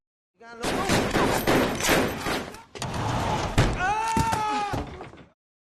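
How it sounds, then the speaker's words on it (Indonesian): Gunfire in a Bruce Willis action film, two dense bursts of rapid shots and crashing impacts, loud and close, separated by a brief gap, with a metallic ringing tone in the second burst. "Frank tiba-tiba muncul dari arah belakang dan tak berhenti melepaskan tembakan."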